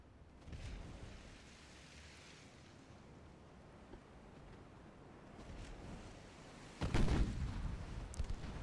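Naval artillery fires in Ultimate Admiral: Dreadnoughts over an ocean backdrop of wind and surf, with a few distant booms and one loud close blast near the end.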